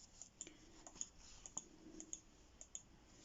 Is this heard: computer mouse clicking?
yes